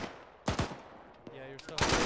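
Gunfire in the ShackTac military video game comes as two loud, sharp bursts, one early and a longer, heavier one at the close, with a quieter stretch between.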